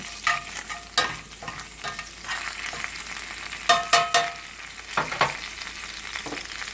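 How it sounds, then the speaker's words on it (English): Garlic fries in a hot pan with a steady sizzle, while a utensil stirs it in repeated scraping strokes and several sharper clatters, close up and with no talking. "throw some garlic in the pan"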